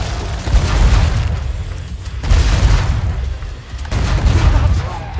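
Explosions in the video game Killing Floor 2 go off in three loud, heavy bursts a second or two apart, each a booming roar that trails off before the next, with no talk.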